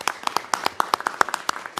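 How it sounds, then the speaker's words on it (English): Sharp, evenly spaced hand claps from a small number of people at a board meeting, brisk and close, forming a short burst of applause. "Let's give them all a round of applause."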